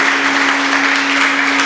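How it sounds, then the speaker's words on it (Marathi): An audience gives a dense, sustained round of applause for singers and musicians at a stage performance, loud and even throughout with a steady hum underneath. "आपल्या ह्या गायक वादक ह्या सर्व कलाकारांसाठी एकदा दणदणीत टाळ्या द्या"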